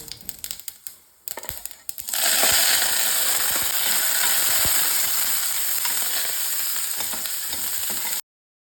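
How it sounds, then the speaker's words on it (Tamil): Chopped onions and curry leaves drop into hot tempering oil after a few clinks, erupting into a loud, steady sizzle that continues close up for several seconds. "இது எல்லாமே நல்லா ஃப்ரை ஆன உடனே கட் பண்ணி வச்சுருக்கிற வெங்காயம், கருவேப்பிலையை தாளிப்புக்குள்ளே கொட்டிடலாம்."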